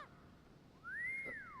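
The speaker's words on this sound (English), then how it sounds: "Yeah, you keep whistling, let's see how that far that gets you." Bird whistling in the video game The Council: a single clear rising-and-falling whistled note, brief and moderately close, over a quiet hushed background.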